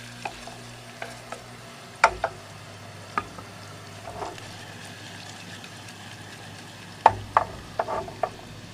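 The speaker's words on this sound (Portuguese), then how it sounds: "o baconzinho já tá fritando" Bacon frying in a pan for risotto, a soft steady sizzle with scattered clinks and stirring scrapes, fairly quiet and close, with no talk.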